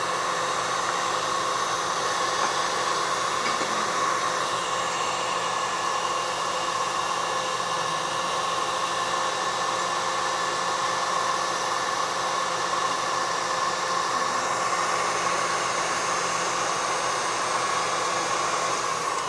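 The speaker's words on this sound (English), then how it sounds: "I'm at like 6 right now on the KitchenAid mixer." A KitchenAid stand mixer on speed six whips mixture toward soft peaks, a steady close whirring hum that holds unchanged throughout with no talk.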